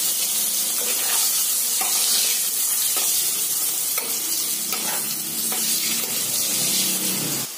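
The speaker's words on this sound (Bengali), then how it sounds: "এবার পুরোটা লাল লাল করে ভেজে নেব" Loud, steady sizzling of potatoes with turmeric frying in hot oil, with continuous crackle and occasional stirring scrapes throughout, no voices.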